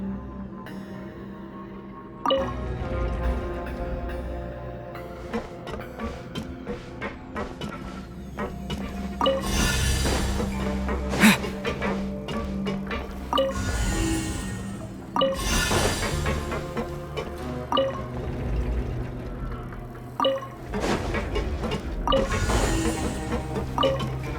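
Water fills and rises in a chamber in Genshin Impact, a steady rushing flow with bursts of splashing surges and faint clinks, moderately loud and continuous.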